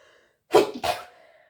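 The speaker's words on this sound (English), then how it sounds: "I'm sorry, I had to sneeze." A single sharp sneeze, close and fairly loud, in two quick bursts, surrounded by quiet.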